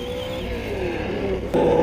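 A Traxxas Slash RC truck's engine runs with a steady buzzing drone that rises slightly in pitch, then jumps to a louder, harsher rev near the end, heard close and alone.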